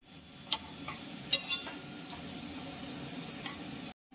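Tomatoes fry in a pan for a peppery chicken curry, a steady soft sizzle with a few sharp clinks of a spoon against the pan, ending in a brief silence.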